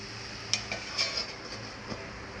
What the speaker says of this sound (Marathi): आता आपण याच्यावरती झाकण मारून ठेवूया दहा मिनटासाठी